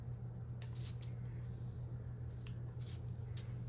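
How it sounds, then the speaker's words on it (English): Scissors snip through planner paper along a diagonal, a few quiet, short crisp cuts spaced out over a steady low room hum. "I'm gonna cut this one at a diagonal and then trim off right here."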